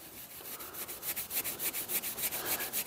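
Steel wool scrubs surface rust off an axe head wetted with Windex in quick, rhythmic back-and-forth rasping strokes, close and fairly soft.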